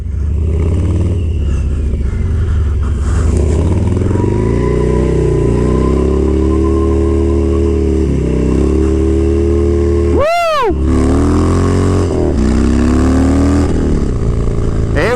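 A brand new Harley motorcycle ridden for stunts revs hard up close, its engine rising and falling through repeated throttle blips, with one sharp high rev spike near the end amid clattery mechanical noise.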